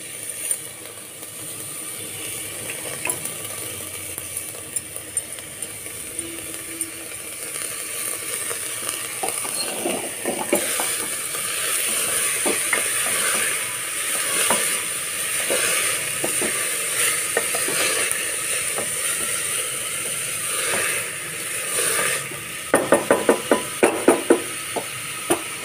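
Chopped bottle gourd and coriander leaves sizzle and frying in a pan for a bottle gourd paratha filling, a steady soft hiss with intermittent scraping and stirring clicks, busier toward the end.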